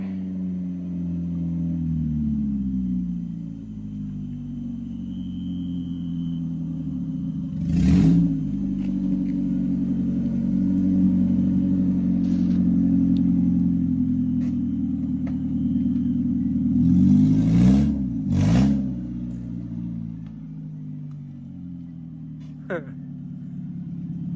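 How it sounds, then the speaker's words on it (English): A loud Honda Civic pulls in nearby with a deep, rumbling exhaust, its engine blipped and revved a few times over a steady idle, while people talk quietly in the background. "He bought a Civic. Oh, which is just as loud as the Miata."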